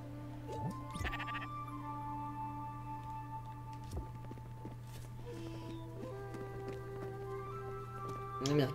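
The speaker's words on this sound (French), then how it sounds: "Attraper ce mouton." Cartoonish sheep bleats from the video game Spiritfarer, a few short calls over a steady humming game background, with light chimes and effects and a louder burst at the end.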